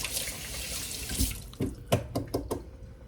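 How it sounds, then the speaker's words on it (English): Hands rinsed under a running kitchen sink tap after making bread, a steady rush of water that breaks into splashes and drips near the end, close by and alone. "Wash this off my hands real quick"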